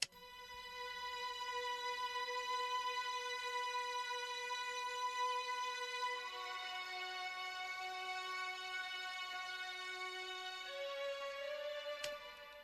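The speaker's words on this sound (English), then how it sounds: "we started off with these 2 violins. We just layered them together." Layered violin string presets, including an 11V Soul preset, hold long, sustained notes that shift chords slowly twice, smooth and soft with no other sounds.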